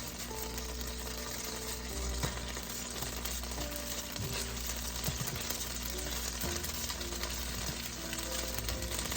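Sliced onion frying in ghee in a pot, a continuous close sizzle with crackling pops, loud and steady throughout with no talking.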